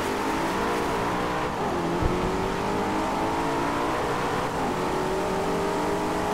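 A racing car engine from the video game Driveclub drones steadily at high revs, a loud, constant close roar with slight pitch shifts and no talk.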